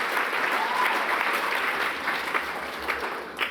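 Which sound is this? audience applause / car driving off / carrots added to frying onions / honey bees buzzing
audience applause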